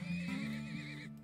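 A horse in the Turmoil video game gives a single loud, drawn-out whinny with a wavering pitch that lasts about a second, then drops off sharply at the end, with no voices over it.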